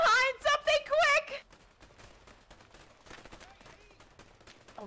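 Enemy gunfire in A Way Out, a string of quick, light cracks and pops following a burst of excited speech, continuing faintly and irregularly to the end.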